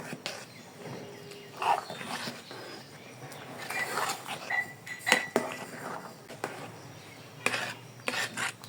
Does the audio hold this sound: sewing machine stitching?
no